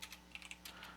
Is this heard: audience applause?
no